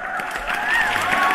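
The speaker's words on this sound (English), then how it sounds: "Let me give a round of applause" A brief burst of crowd applause and cheering, dense and fairly loud, lasting just over a second with a faint tonal whistle running through it.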